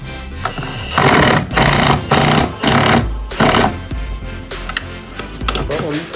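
A wrench works on Jeep XJ shackle relocation brackets with a series of loud, rhythmic ratcheting and clanking bursts close up, separated by short pauses.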